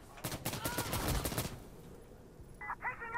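Friendly gunfire in the Insurgency Sandstorm video game: a fast, loud burst of automatic shots for over a second, then quieter scattered sounds and a brief voice near the end.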